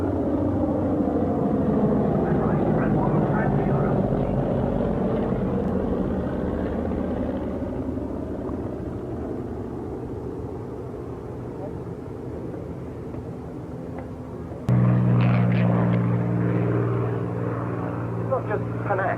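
Vintage fighter aircraft, a Mustang or Spitfire, taking off at a 1987 fighter airshow at North Weald, giving a steady low engine rumble that swells sharply near the end, with a voice talking over it.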